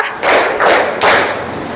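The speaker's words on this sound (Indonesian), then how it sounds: "Tepuk 1, tepuk 2, tepuk 3" A group claps in unison during a Scout counting clap game, three dense bursts of clapping in quick succession, each lasting a fraction of a second, with a short gap between them.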